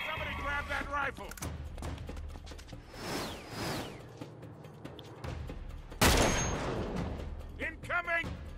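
Gunfire in an Uncharted 3: Drake's Deception shootout, with bursts of rifle shots and booming impacts scattered through the scene, a loud blast near the middle, and voices shouting in between.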